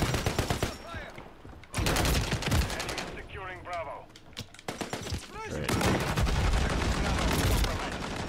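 Rapid bursts of automatic gunfire and scattered shots crackle in a Call of Duty multiplayer match on the Stash House map, loud and close in repeated volleys, with a player's voice breaking in between the bursts.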